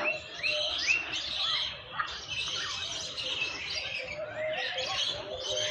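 Bird of paradise (cendrawasih) calling at the TMII bird park, a steady stream of bright chirps and whistled calls, moderately faint, with other birds around.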